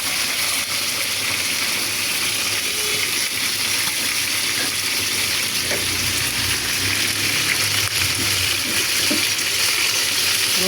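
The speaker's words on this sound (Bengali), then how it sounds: "গরুর মাংস কষাচ্ছি এখনও" Beef braising in a pan while chicken pieces fry alongside for a festive meal, a loud steady sizzling hiss that continues throughout with faint stirring scrapes, close up and without talking.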